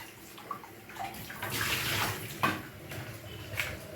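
Water splashing and pouring over salted food being washed in a large dish, a steady close rush with a few louder splashes, no talking.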